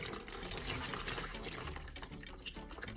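Old battery electrolyte liquid is poured into a plastic tray, making a steady close splashing trickle with small gurgles and drips, no voices.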